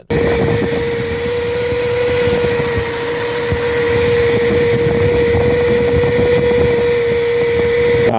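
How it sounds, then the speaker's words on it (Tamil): A car engine runs steadily right after a morning start, with a continuous rough whine from the timing belt at the front of the engine, loud and close, without speech. "காலையில் வண்டியை ஸ்டார்ட் பண்ணும்போது கர கரான்னு ஒரே சவுண்டு அதாவது ஃப்ரண்டில் வந்து அந்த இன்ஜினுக்குள்ளே பெல்ட் எல்லாம் இருக்குது டைமிங் பெல்ட்டு"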